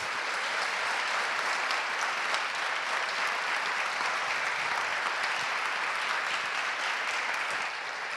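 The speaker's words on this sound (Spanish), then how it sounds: "Un aplauso para ella." Sustained applause from an audience after a conversational conference talk, a dense, steady wash of clapping that holds at an even level for about eight seconds with no speech over it.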